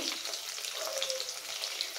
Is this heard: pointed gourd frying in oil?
yes